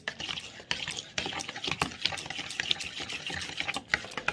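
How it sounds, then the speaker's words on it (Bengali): Whisk or spoon stirring a flour and milk batter in a bowl, with repeated scraping and sloshing strokes at close range, steady and fairly quiet, no talking. "দুধটা দিয়ে ভালো করে মিশিয়ে নিলাম"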